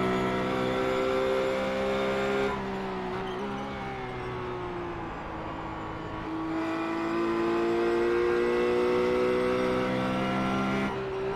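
A Ruf C Spec sports car circles the Road Atlanta track, its engine holding a steady, loud drone that rises and falls as it shifts and pulls through the lap, with no talking.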